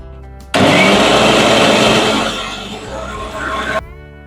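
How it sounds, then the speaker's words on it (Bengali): An electric mixer grinder blends raw mangoes into a paste: a loud, steady whirring roar starts abruptly, drops slightly in pitch as the load thickens, then cuts off sharply after about three seconds. "এবার আমগুলো মিক্সিতে দিয়ে পেস্ট করে নেব"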